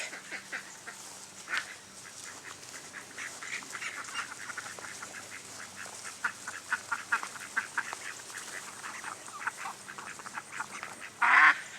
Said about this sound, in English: Our newest ducklings decided to follow me up to the garden while I was working